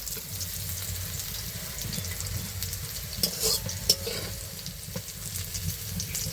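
Flat beans sizzle gently in a pan while being stirred, a soft continuous frying hiss broken by a few sharper scrapes and clicks of the spoon against the pan.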